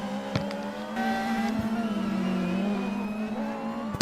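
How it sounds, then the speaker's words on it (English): A race car circles the track during a time attack event at SNGP, its engine droning steadily at a sustained pitch with small shifts in revs, heard at a moderate distance. "driving a realism class car with an attempt to set a few laps in it."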